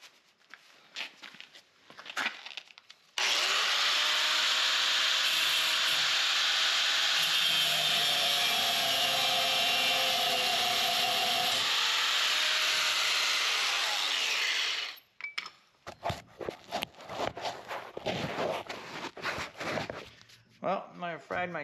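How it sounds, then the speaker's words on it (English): Power tool cutting down a metal axle rod on a wheelbarrow: a loud, sustained high grinding whine of about twelve seconds, bracketed by clattering handling noises and knocks before and after. "Gonna cut this rod down."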